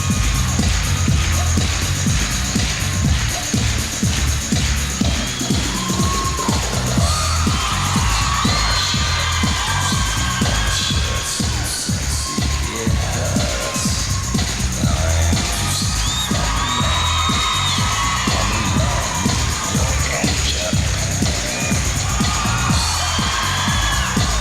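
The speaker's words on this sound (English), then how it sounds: "They're already clapping their hands and stomping their feet." An ice show audience at a 1997 Champions on Ice figure skating exhibition claps and stomps along in a steady, dense rhythm, with scattered whoops and cheers rising from the crowd over loud music throughout.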